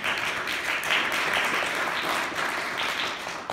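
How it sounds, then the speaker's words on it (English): A town audience at a Purcellville state-of-the-town address claps in sustained, even applause, moderately loud throughout, with no talking. "Give the town of Purcellville another round of applause."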